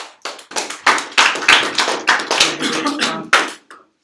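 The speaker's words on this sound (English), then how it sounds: "Give yourself a round of applause." A small group claps in a brief, loose burst of applause, uneven and close, tapering off after a few seconds.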